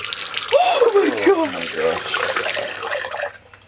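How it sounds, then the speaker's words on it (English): Tap water runs steadily into a sink nearby, a continuous splashing hiss under a short excited exclamation from a speaker. "Turn on the water."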